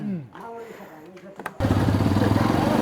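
A motorcycle climbs a steep mountain road in first gear. The engine note rises for a moment, then a loud, rough, close roar takes over for the rest of the clip.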